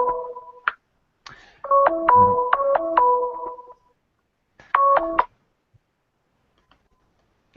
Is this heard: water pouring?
no